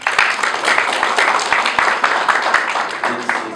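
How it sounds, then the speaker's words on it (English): Audience applause closing a lecture, loud close clapping with a pulsing rhythm and a few sharp individual claps standing out from the crowd. "Another round of applause,"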